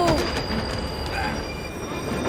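A train rolls past with squealing wheels and metallic rail noise, loud and steady throughout, with high-pitched screeches near the start.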